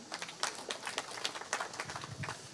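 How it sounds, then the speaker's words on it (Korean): Scattered, faint clapping from an audience at the unveiling ceremony of the Independence Memory Plaza at the National Assembly, with irregular distant claps that build slightly toward the end. "박수 부탁드립니다."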